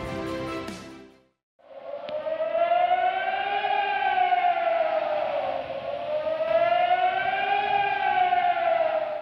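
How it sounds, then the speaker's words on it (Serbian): Civil defense sirens wail in northern Kosovo: a brief tone breaks off, then a long, loud steady howl slowly rises and falls in pitch with no talking. "Na severu Kosova oglasile su se sirene."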